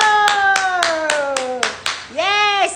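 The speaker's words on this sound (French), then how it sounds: "il faut applaudir au moins" A short run of quick, evenly spaced hand claps sounds over bright, sliding chime-like tones, with a burst of warbling tones near the end.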